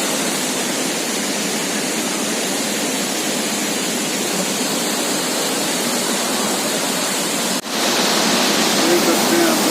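Lodh waterfall pouring down from a great height, a steady, loud, broadband roar of falling water that runs unbroken throughout, briefly dipping near the end before resuming.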